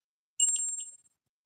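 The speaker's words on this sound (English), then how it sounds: "Yogi, ring the bell because I have beaten cancer" A small metal bell is tapped once, giving a bright ringing ding that decays quickly in an otherwise silent room.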